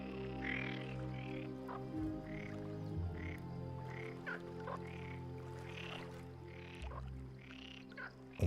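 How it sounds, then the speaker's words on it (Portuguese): Iberian frogs and midwife toads call from a pond, a steady chorus of repeated croaks and clucking notes over a continuous low hum, with no voices. "Rãs ibéricas, sapos parteiros e lagartos de água."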